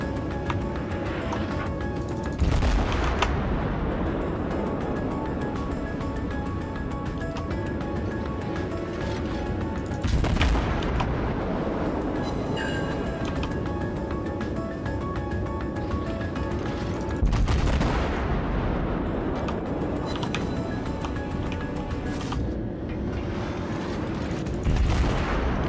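Naval battleship gunfire in World of Warships rumbles through a constant loud battle din, with several heavy booming salvos breaking out at irregular intervals.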